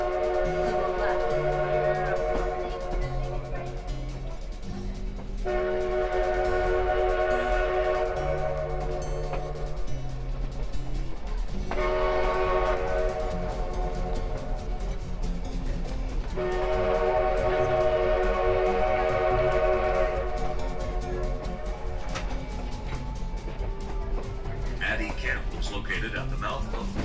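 An 1880 steam train sounds long, sustained whistle blasts that echo through Lower Gulch in the Black Hills, repeating several times with gaps, loud and steady over a low rumbling background.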